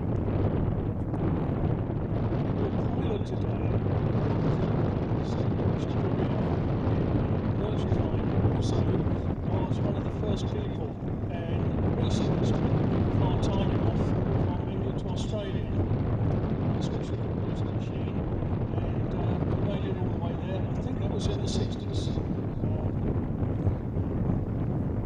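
Steady wind roars and buffets the microphone outdoors at a vintage airshow at Shuttleworth, loud and continuous throughout with no clear break.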